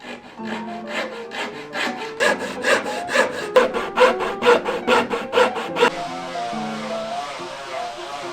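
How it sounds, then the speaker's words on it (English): Rhythmic back-and-forth rasping of sandpaper against wood during a hallway renovation, repeated strokes close by, then a softer steady scraping tone at the end. "sanding again"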